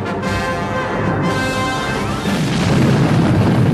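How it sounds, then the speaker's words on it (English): Explosion in the movie Superman II, a dense, loud rumbling boom that holds steady and swells into a deeper roar toward the end, with no voices. "Somehow this explosion sets the Zod gang free from the Phantom Zone"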